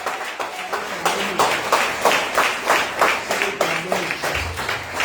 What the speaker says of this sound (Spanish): Un aplauso al Señor esta tarde,